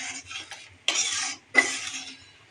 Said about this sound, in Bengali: আর এদিকে আমি সবজির জন্য মশলাগুলো কষিয়ে নিচ্ছি।